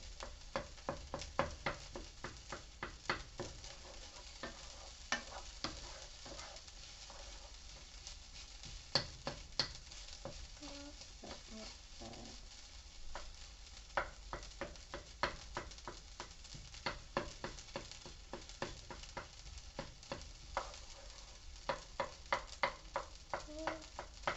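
Egg being stirred and broken up in a pan of frying rice, with a steady crackling sizzle and a long series of quick, sharp utensil scrapes and taps against the pan, fairly close.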